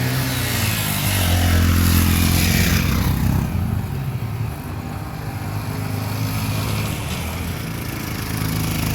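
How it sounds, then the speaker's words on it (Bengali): A motorcycle engine labours loudly and steadily as the bike climbs a steep hill road toward Boga Lake and Keokradong in Ruma, Bandarban, with the engine note shifting slightly partway through and no talk. "আমরা বাইক নিয়ে উঠছি"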